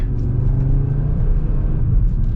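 A 2023 Audi RS3 engine rumbles loud and close, a deep droning growl with brief dips as it shifts gears under throttle.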